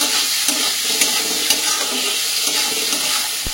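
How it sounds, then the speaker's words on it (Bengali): Prawns frying in hot oil with a masala paste being cooked down, giving a steady close sizzle with soft stirring scrapes and a few small clicks throughout, no voices. "চিংড়ি মাছ দিয়ে এই মশলাটা ভালো করে কিন্তু ভাজা ভাজা বা কষা কষা করে নিতে হবে"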